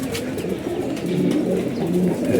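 Pigeons kept as a breeding pair coo steadily in low, rolling murmurs, close by and continuous with no one talking.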